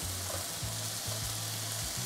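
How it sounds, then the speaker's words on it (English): Paneer, a fresh homemade cheese, and a blend of five dried spices frying in a pan, giving a steady close sizzle with a faint low hum and no talk. "I'm going to add some paneer, which is a fresh homemade cheese"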